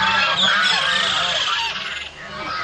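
Farmyard ducks honk loudly and insistently as a storytelling sound effect, a dense overlapping chorus of nasal calls close by that eases briefly near the end before picking up again.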